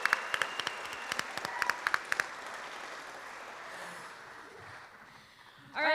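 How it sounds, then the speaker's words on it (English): Awards ceremony audience applauding nominees: a sustained crowd clapping with some louder nearby claps early on, dying down toward the end, followed by a brief voice. "let's have another round of applause for these stupendous..."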